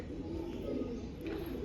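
Low, soft cooing from an old-breed blue pigeon, a continuous throaty murmur heard close by and faintly, with no voices.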